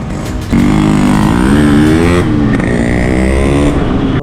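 A Yamaha RX-G motorcycle engine, a modified two-stroke bike, revs up hard after a brief quiet start and holds a loud, rasping, close-up drone that dips slightly and climbs again.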